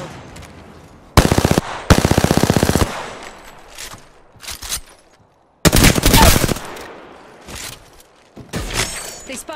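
Automatic gunfire in the battle royale game Apex Legends, loud close bursts of rapid shots with short gaps and quieter intermittent shots and impacts between them, no voices.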